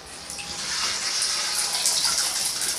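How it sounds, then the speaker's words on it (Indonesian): Water gushing steadily from a tap, a loud continuous splashing hiss close by, with no voices. "airnya sudah mengalir sobat ya"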